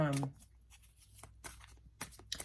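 Tarot cards riffled and shuffled by hand, a series of soft papery bursts and flutters at close range, with a short voice at the very start.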